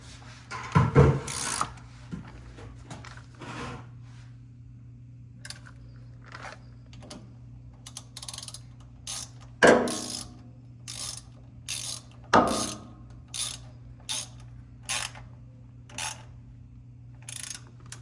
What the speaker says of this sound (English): So I'm gonna go ahead and tighten all of them now, and then we'll go ahead and put the oil back in.